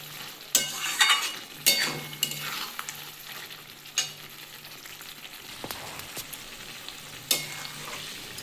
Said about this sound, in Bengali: ভালো করে আমি কষাবো আর এই সময় একটু নাড়তে হবে